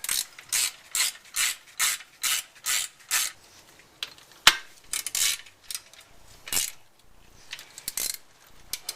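A ratchet tightens the bracket bolts on a blower during a rebuild, giving a run of quick, even clicking strokes and then a few irregular bursts with short pauses, all close up and with no talk.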